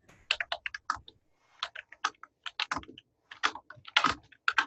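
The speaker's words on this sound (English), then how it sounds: "I'm typing, so go ahead." Rapid typing on a computer keyboard during an online meeting, heard as close, crisp key clatter in quick bursts with short pauses between them. No talking over it.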